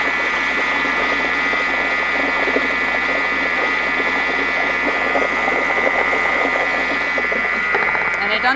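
An electric blender on speed 4 whirls a creamy salad dressing with herbs, a steady loud motor whine running continuously from start to finish.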